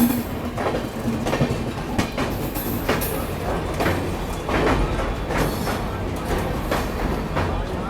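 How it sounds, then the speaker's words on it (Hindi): The Thiruvananthapuram–New Delhi Kerala Express rushes past at close range, a loud continuous roar with a rhythmic clickety-clack of wheels over rail joints lasting the whole time. "ये आ गई तिरुवनंतपुरम न्यू दिल्ली।"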